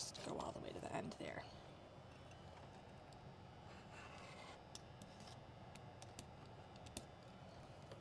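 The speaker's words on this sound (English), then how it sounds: "now we're gonna cut, actually we can just go all the way to the end there" Scissors cut through paper in a continuous run to the end, a few close, crisp snips and rasping strokes that are loudest at the start, then quiet handling noise over a low background hum.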